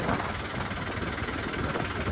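Tractor engine running on a farm trip home, a continuous rough, throbbing mechanical drone heard close and steady for a couple of seconds with no talking.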